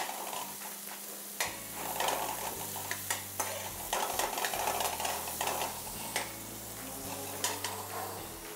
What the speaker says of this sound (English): Fry the onions.